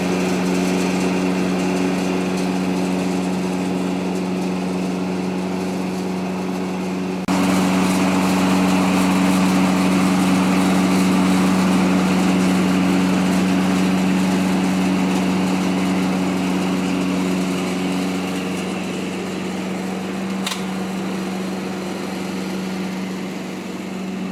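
A motorized blower runs steadily in a chestnut processing operation, blowing debris out to one side; its loud, constant engine drone jumps in intensity partway through, then holds and eases slightly, with one sharp click near the end.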